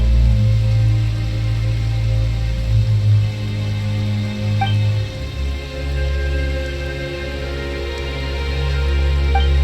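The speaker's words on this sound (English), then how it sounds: "Why is it raining all of a sudden?" Sudden rain in the video game Genshin Impact, a steady dense hiss of falling water holding at an even level from start to finish, with a low rumbling undertone and no talk.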